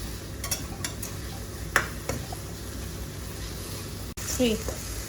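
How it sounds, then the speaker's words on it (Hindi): Ground roasted masala being stirred and fried in a pan makes a low sizzle under scattered scraping and clinking of a spoon, with a short pause and a louder scrape near the end. "अभी ये हम इसमें ऐड कर देंगे और इसको थोड़ा सा मिक्स कर लेंगे, थोड़ा सा भून लेंगे इसके अंदर"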